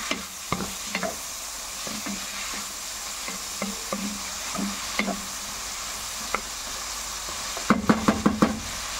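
A spoon stirs seasoned vegetables in a hot pan, producing a steady sizzle punctuated by repeated close scraping and tapping knocks that cluster quickly near the end.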